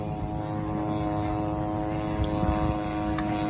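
Large remote-control scale model airplane with a 14-foot wingspan flying at an air show in Louisville, Kentucky, a steady droning engine and propeller buzz with sustained harmonic tone, moderately close and continuous.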